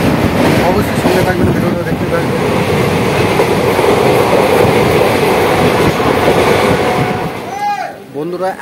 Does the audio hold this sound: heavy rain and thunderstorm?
no